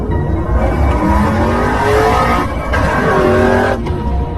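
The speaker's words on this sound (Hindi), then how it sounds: "ये सुनकर सोन जीप को स्टार्ट कर देता है और जीप को काफी तेज में वहाँ से भगाता है" A jeep speeding away, its engine roaring continuously with rising, sweeping tones and tire noise, loud and close throughout with no talking.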